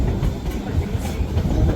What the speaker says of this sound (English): The train is now going to go around what is called the High Hill Curve.